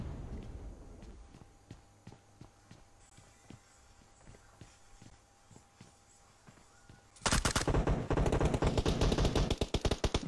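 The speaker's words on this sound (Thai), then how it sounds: "ยิงกันแล้วครับมีการยิงกันเกิดขึ้นแล้วครับตอนนี้" Video game gunfire: sparse, quiet, evenly spaced footstep-like taps, then a sudden loud stretch of rapid overlapping shots that runs to the end.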